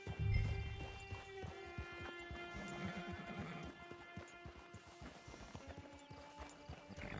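Horse hooves clip-clop at a steady walking rhythm in the Red Dead Redemption 2 video game. A short neigh comes near the start, over low sustained background tones.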